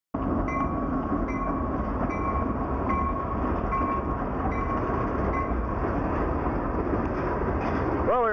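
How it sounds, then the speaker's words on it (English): A train rumbles past close by in a loud, continuous roar with faint rhythmic clatter of wheels, and a brief squeal near the end. "we were just about to leave and we got cut off by the train"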